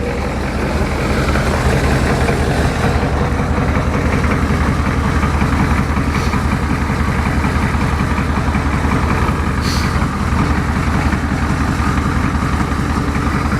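A Ford diesel engine idling roughly after a winter cold start, a loud, steady low clatter and rumble close by with no one talking.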